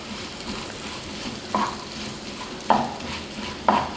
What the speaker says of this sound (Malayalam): മൂന്ന് സവാള സ്ലൈസ് ചെയ്ത് ചേർക്കാം നാല് കഷ്ണം വലിയ വെളുത്തുള്ളി രണ്ട് പീസ് ചെറിയ ഇഞ്ചി എന്നിവ ചേർത്ത് ഇതിനൊപ്പം നമുക്ക് വഴറ്റാം